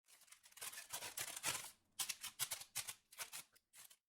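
Paper being cut with scissors for a paper glider, a run of close, crisp snipping and rustling strokes in quick bursts with short pauses between them.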